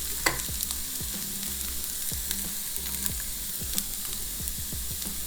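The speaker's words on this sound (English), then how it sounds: "drop your onions into the fat from your beef on a medium heat" Onions sizzle steadily in hot beef fat, a constant crackling hiss with scattered pops and faint utensil taps, close and alone without talk.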